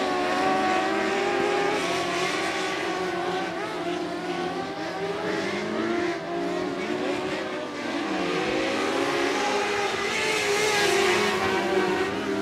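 Race cars roar around the 105 Speedway oval at a regular race night, a loud continuous engine drone with rising and falling pitch as the pack laps, an announcer talking over it throughout.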